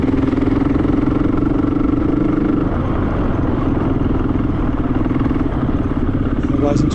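A motorcycle climbs a hard-packed gravel hill trail, its mid-pitched engine chugging steadily near the microphone while a voice talks over it throughout.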